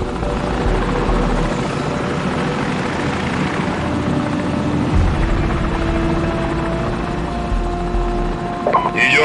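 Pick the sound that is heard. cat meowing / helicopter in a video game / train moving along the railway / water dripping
helicopter in a video game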